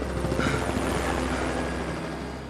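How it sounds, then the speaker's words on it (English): Tourist helicopters flying overhead near a volcanic area, a steady low rotor drone with a continuous engine whine, sustained and fairly close, holding constant throughout. "Tourist helicopters continue to fly by, and Dewey still has no way of attracting th"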